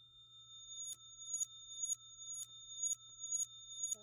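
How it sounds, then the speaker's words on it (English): A reversed sample plays in a Sonic Pi live-coding loop, giving seven faint, evenly spaced swelling chirps about half a second apart over a low, steady hum. "So that's the sound of it reversed."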